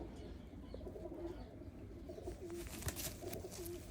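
Pigeons in a breeder's loft give soft, repeated low coos over a faint, steady room background, with a brief light clatter near the end.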